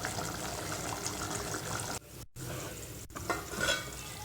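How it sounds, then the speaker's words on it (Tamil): Papad curry (appalam kuzhambu) simmering in a pot on the stove, giving a steady close bubbling and sizzling texture throughout with one brief dropout midway, no talking. "குழம்பு நல்லா கொதித்து வெந்துட்டுருக்கு."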